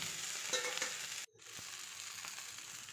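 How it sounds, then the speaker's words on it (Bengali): Pieces of bata fish shallow-fry lightly in a little oil in a frying pan, a steady close hiss and crackle with a brief pause as they are turned, then the sizzle resumes. "মাছগুলো আমি এই ফ্রাই প্যানে হালকা করে ভেজে নিচ্ছি"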